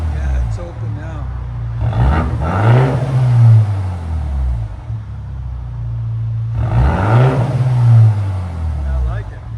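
A 2024 BMW X1 M35i 2.0L turbo with an open exhaust revs twice, each rev a loud rising then falling roar, with people talking over the engine.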